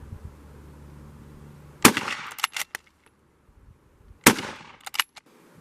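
Two loud, sharp revolver gunshots fired at a target, each a single crack followed by a brief trailing echo and smaller clatter, separated by a couple of seconds of near silence.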